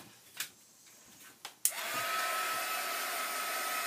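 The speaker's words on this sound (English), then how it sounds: "So I'm going to grab my heat tool and help this along a little bit." A heat tool blowing hot air to dry matte medium on a craft piece starts up after a few faint taps and runs as a steady, close whooshing blow with no talk.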